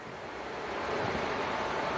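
Gusty wind buffets the microphone at an outdoor Twenty20 cricket final in Adelaide on a late afternoon, a steady broadband rush that swells a little louder partway through, with no voices heard.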